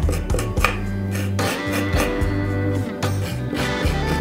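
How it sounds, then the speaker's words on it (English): A knife scrapes white pith from lemon peel for limoncello, giving close, repeated rasping and clicking strokes in an uneven rhythm over a steady low kitchen hum. "in the time that it take me to scrape all that pith off"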